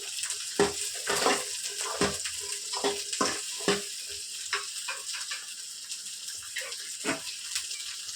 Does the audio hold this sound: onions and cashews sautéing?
yes